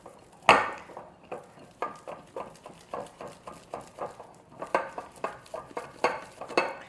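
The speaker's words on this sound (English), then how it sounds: "the first thing I'm gonna do is just start trying to pull and knead it against the bowl" Jalapeño cheddar sourdough dough is pulled and kneaded against a bowl in a steady rhythm of soft, close slaps and squelches, with a louder thump at the start.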